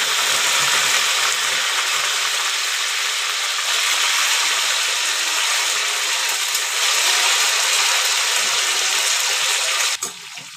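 Fenugreek seeds frying in hot oil for a brinjal curry, a dense, steady close-up sizzle that runs unbroken and then drops off abruptly at the very end.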